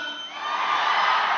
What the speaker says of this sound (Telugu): థియేటర్లో ఈ అరుపుల కోసం వెయిటింగ్,